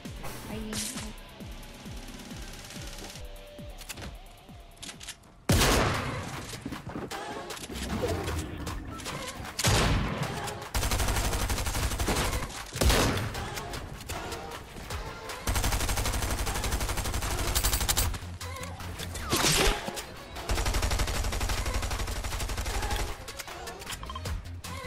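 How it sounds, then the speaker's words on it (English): Gunfire rattles in a Fortnite match as several teams shoot at once, with dense, loud bursts of automatic fire and sharp single shots arriving in waves, interrupted by short lulls. "There's multiple teams shooting at me."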